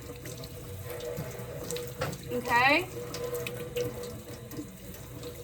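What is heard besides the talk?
rinsing hands under a running tap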